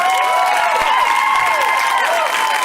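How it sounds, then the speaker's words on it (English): Loud, sustained applause and cheering from a stand-up comedy crowd for Cameron Esposito, a dense continuous roar of clapping with shouts and whoops throughout. "I want all of you guys to give Cameron Esposito a huge round of applause"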